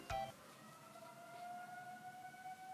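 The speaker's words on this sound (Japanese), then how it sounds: "でも救急車、救急車、 救急車か、危ない" A faint, steady siren wails in the distance, identified as an ambulance, its tone holding and drifting slightly over a few seconds behind a brief knock at the start.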